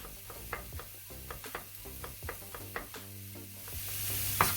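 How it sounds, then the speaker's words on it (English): A knife chops garlic for a sauce in a steady series of sharp, evenly spaced taps against a board, close by and with no talking. "I'm gonna go ahead and chop up my garlic to go in my sauce"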